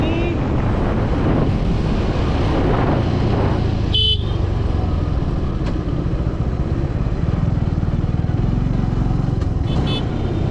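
Motorcycle on the road at the start of a long trip to Ladakh, loud continuous engine drone with heavy wind buffeting the microphone, a short horn-like toot partway through, passing traffic around.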